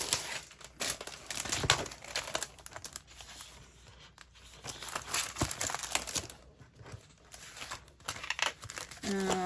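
Sheets from a paper collection for card making crinkle and rustle as they are handled and shuffled, in busy bursts close by, with brief pauses and a faint voice now and then.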